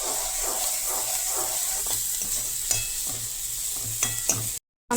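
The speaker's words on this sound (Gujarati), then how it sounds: "તો મેં આ ડુંગળી નાખી છે। ડુંગળી થોડીક એવી પાકી જાય" Chopped onions frying in oil with asafoetida in a pan, a steady sizzle and hiss broken by repeated stirring scrapes, close and fairly loud with no talk.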